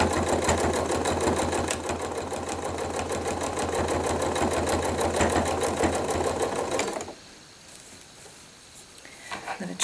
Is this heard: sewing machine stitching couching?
yes